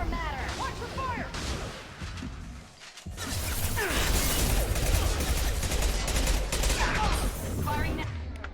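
Mass Effect 2 combat with rapid bursts of gunfire and weapon fire, dense and loud, broken by a brief lull near the middle before sustained shooting resumes alongside mechanical whooshes and battle noise.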